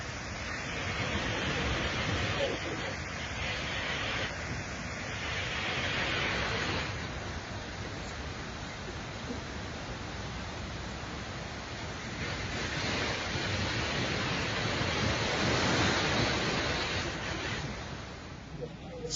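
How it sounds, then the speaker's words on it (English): Snoqualmie Falls, a 268-foot waterfall on the Snoqualmie River in Washington State, roars as a steady broadband rush of falling water, with wind buffeting the microphone and swelling in places. "It's a 268-foot waterfall on the Snoqualmie River"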